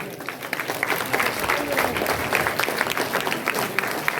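Audience at a formal ceremony applauding steadily, a dense continuous patter of many hands clapping throughout at moderate level, with no clear speech over it.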